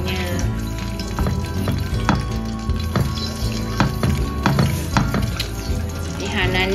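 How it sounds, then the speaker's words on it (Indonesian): Buttermilk chicken frying in hot oil, a steady crackling sizzle with occasional stirring clinks and louder pops, close and continuous. "baru kita goreng ayamnya."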